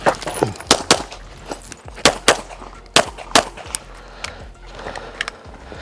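A handgun fires rapid shots during a shooting training session, sharp loud cracks in quick bursts with short pauses between strings, some faint metallic pings in the background.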